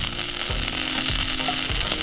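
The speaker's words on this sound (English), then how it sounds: "The sausages have been on the Weber kettle for about 15 minutes." Sausages frying on a Weber kettle grill give a steady, close sizzle with a few soft scraping stirs.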